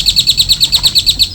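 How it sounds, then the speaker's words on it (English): Repeated bright bird chirps in a steady, fast rhythm, about ten calls in just over a second, loud and close with no talking, heard as a novelty effect while unpacking an ALLPOWERS R2500 solar generator. "It even comes with bird sound effects"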